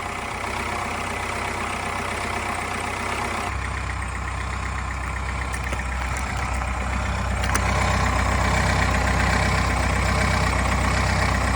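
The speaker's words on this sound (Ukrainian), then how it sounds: "Дуже чітко чути, як маховик зараз шумить." An Opel 1.7 diesel engine idles unevenly with a flywheel fault, a loud, steady rumble whose tone shifts abruptly twice as the revs change, with a faint rattling hum beneath and no talking.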